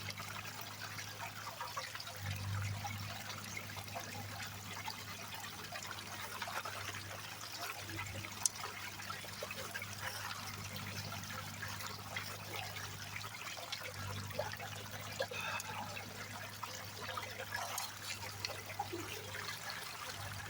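Water trickles and runs steadily through a gold sluice at a mountain dig site with clay in the material, a continuous moderate flow with a low hum beneath and no talk.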